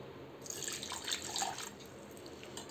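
Water trickles and splashes as a small bowl of it is poured into a mixer jar while making homemade mango drink, a brief faint pour with no talk.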